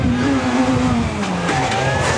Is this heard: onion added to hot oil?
no